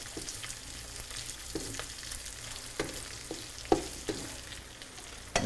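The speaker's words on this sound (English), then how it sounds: "let's go ahead and throw the garlic in there" Garlic sizzling and frying in a wok over high heat, a steady hiss with scattered crackles and a few sharper pops, close and moderately loud with no voices.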